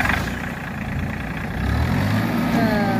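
An old tractor's engine turns over and settles into a steady, low, rumbling idle that grows louder partway through, heard close by at a demolition site.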